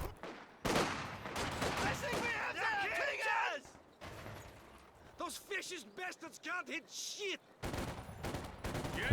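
Bursts of machine gun fire and scattered gunshots in a Company of Heroes 2 battle, sounding in loud clusters amid explosions and chaotic combat noise, with a commentator talking over much of it.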